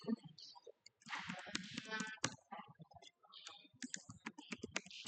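A computer mouse clicks repeatedly while a new user is set up in phpMyAdmin: sharp, close, irregular clicks in short bursts, with quiet keyboard-like ticks between them.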